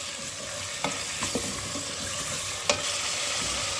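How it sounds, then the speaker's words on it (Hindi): Half a kilo of chicken frying and being stirred in hot oil, a steady close sizzle with occasional sharp clinks and scrapes of a spoon, no voices. "ऑयल हमारा गर्म हो गया है, तो अब हम इसमें ऐड कर देंगे चिकन।"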